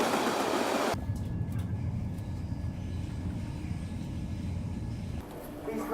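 A loud burst of rushing noise cuts off abruptly, leaving a low, steady rumble of a train idling or moving slowly in a station, with faint station ambience around it.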